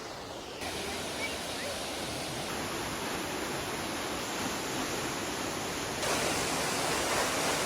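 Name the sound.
North Falls waterfall at Silver Falls State Park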